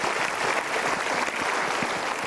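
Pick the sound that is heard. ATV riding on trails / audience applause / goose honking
audience applause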